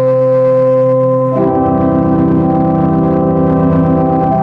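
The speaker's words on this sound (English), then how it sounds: "So when I push this one note, I'm playing this 16 foot, 8 foot, 4 foot, and 2 foot." Sustained pipe organ chord on a single held note with 16, 8, 4 and 2 foot stops drawn, deepening partway through into a full, rich, loud tone with strong low bass, steady with no talking.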